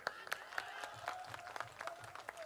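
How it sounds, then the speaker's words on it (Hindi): An audience at a Hindi comedy poetry gathering claps lightly and steadily, a faint, thin patter of scattered hands with no talk over it. "मैं चाहता हूं एक बार और तालियां बजाएं"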